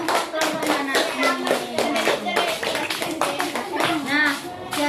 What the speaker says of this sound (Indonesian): Tepuk tangan untuk kelompok Mbak Nasmi.